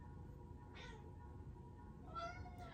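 A house cat meows twice, fairly faint and a little distant, with a quiet pause between the calls over a low room hum.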